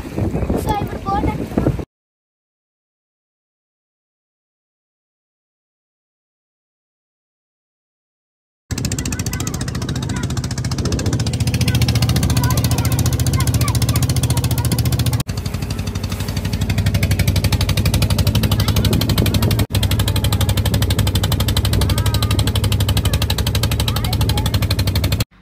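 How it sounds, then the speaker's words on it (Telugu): A motor boat carries passengers along a river between hills near the Telangana border. After a brief silent gap, a steady, loud low engine drone runs continuously to the end, with voices faintly mixed in. "సో ఇప్పుడు బోట్"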